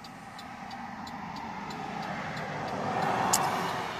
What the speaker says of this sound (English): I'll wait till this car passes.